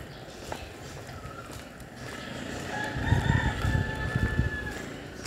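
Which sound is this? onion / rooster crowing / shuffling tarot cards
rooster crowing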